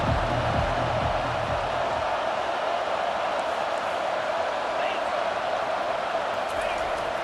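A packed college football stadium crowd at Washington versus Texas A&M roars in a steady, dense wash of noise, loud and continuous throughout.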